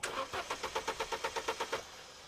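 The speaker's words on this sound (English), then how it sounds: "So let's watch the scope as Roddy cranks it over." A 2010 Vauxhall Meriva B with a 1.4 XER petrol engine cranks over without firing, giving a steady run of about a dozen rhythmic starter pulses before it stops, close and moderately loud.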